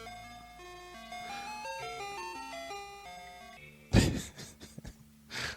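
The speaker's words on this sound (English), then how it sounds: "I'll just search for the ice cream truck file." Ice cream truck jingle played from a sound file, a tinkling electronic melody for several seconds that stops, followed by a few bursts of rustling handling noise and clicks.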